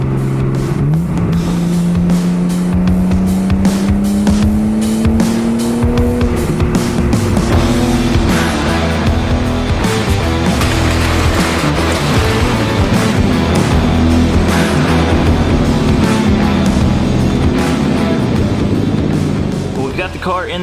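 A Nissan Skyline R32 GT-R drives with a loud, continuous engine drone whose pitch climbs and settles, then holds steady for about twenty seconds, with no pauses.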